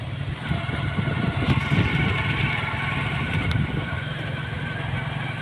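Steady, continuous engine and wind rumble from a motorcycle being ridden back along a road, with a low droning hum throughout.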